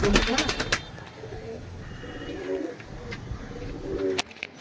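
Pigeons coo in low, throaty bursts with some fluttering or rustling, a voice speaking at times, and the birds sound close by.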